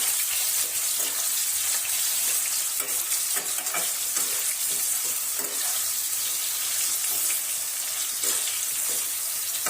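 Cauliflower and peas sabji frying in a pan, a loud, steady close sizzle with repeated stirring scrapes and soft clatters running throughout, no speech.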